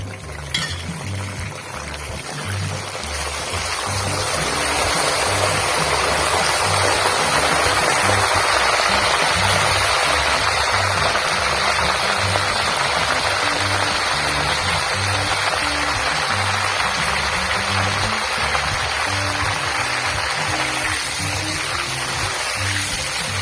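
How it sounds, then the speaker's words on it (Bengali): Salt water poured into hot oil where green banana chips are frying at home, setting off a loud, steady hiss and crackle of sputtering oil that swells after a few seconds and holds for the rest, with no talk. "গরম তেলে জলটা কিন্তু ঠিকরাতে পারে, সেই জন্য সাবধানে এটা দিতে হবে"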